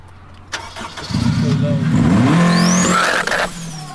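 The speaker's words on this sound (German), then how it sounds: "Da wird die einfach mit Trecker gefahren." A tractor engine at a rural wedding in Romania starts and revs up loudly nearby, holding a steady rising drone for a few seconds before dropping off, with voices faintly in the background.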